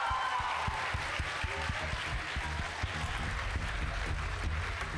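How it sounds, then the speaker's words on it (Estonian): An audience at a festive stage event claps for Pallas, a dense wash of applause heard at a distance, with a thumping low musical beat running underneath. "Suur aplaus Pallasele!"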